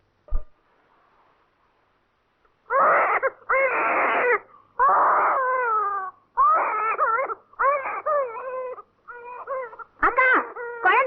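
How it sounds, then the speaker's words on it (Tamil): An infant crying in repeated loud wailing bursts, each a second or so long with short gaps between, starting after a brief quiet stretch with a single click. "குழந்தை அழுவதில்ல, கொஞ்சம் பாரு."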